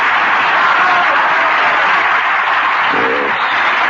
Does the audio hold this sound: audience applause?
yes